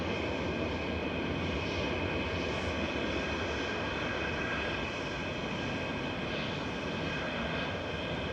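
A TUI airliner inbound from Cancun is on short final to runway 23 right at Manchester Airport, its engines a steady, continuous broadband roar heard from a distance with no talk.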